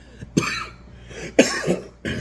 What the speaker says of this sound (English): Got the cough this morning, man.